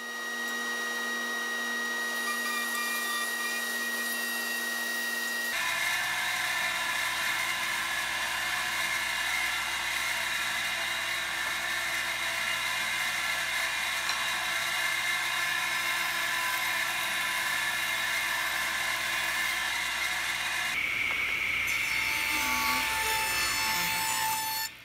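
Woodworking machines milling picture frame stock into rectangular pieces, a loud continuous whining roar of a cutter biting wood after a quieter motor spin-up, steady for about fifteen seconds, then a pitch shift near the end.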